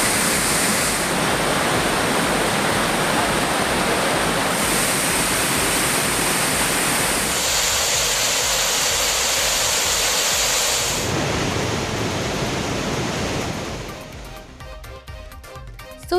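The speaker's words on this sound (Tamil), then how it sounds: "குற்றாலம் மெயின் அருவியில் தண்ணீர் வரத்து அதிகரிப்பால் குளிக்க தடை." Heavy water pours down the Courtallam main waterfall in a dense, steady roar that fills the whole soundscape at close range, its texture shifting slightly before thinning out near the end.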